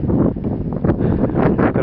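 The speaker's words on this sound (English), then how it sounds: "A little bit windy today and cold." Gusty wind buffets the microphone outdoors at a cold shooting range, a continuous loud roaring rumble with rapid fluctuations and no voices.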